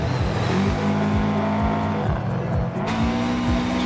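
Subaru Legacy race car in a racing video game, engine droning steadily with repeated downshift sweeps and tire noise, continuous and close throughout.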